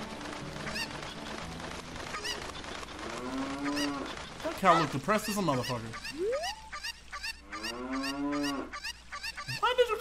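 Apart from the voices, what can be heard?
cow mooing in video game Zelda Ocarina of Time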